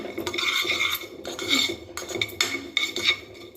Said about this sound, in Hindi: इसको मिक्सर में नहीं हम पीसेंगे, इसको ऐसे कूट लेंगे।